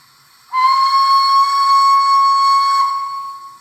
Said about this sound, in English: 3 long whistle